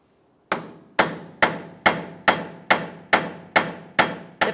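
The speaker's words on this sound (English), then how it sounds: "Continue on with your hammer and punch. We're going to come right in the center of each of those studs and break these free." Hammer and punch strike the wheel studs of a 2007-2018 Jeep Wrangler, ringing out nine loud, evenly spaced metallic blows after a brief silence, each with a short decaying ring.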